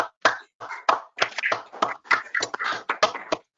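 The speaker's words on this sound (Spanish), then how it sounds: "vamos a darle un fuerte aplauso a Javier por su exposición" Participants in an online video meeting applaud a talk on energy for Mexico, heard as a sparse, irregular run of close, distinct hand claps over a few seconds with silence between them and no talking.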